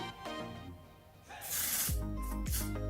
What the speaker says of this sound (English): So what I do is I spray at the back of my hand.